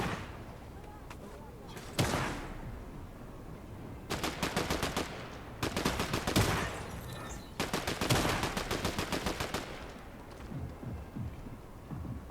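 Automatic gunfire from a Fortnite match crackles in three rapid sustained bursts after a single loud shot, with quieter ambient game noise between volleys.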